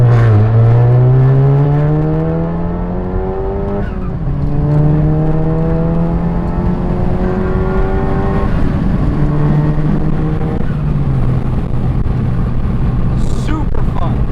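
A bagged Stage 2 Volkswagen MK7 GTI with an aftermarket exhaust and manual transmission revs hard inside a tunnel, its engine note climbing through several gear pulls, loud and echoing, while a person talks over it.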